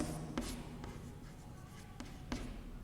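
Pen or marker strokes scratch faintly on a board during a class 12 maths lesson, with short squeaks and taps over low background noise.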